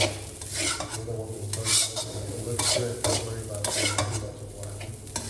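Thai chicken fried rice being stir-fried in a hot pan, a steady close sizzle with repeated scraping and tossing strokes of the spatula against the metal, no voices.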